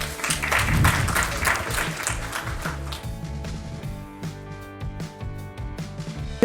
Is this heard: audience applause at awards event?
yes